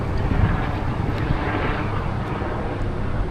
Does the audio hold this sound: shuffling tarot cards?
no